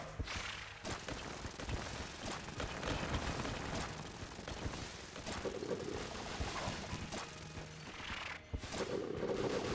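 Bait launcher from Enter the Gungeon firing at a boss amid dense, continuous game combat, with rapid popping shots and impacts layered over a busy, loud mix of effects and music.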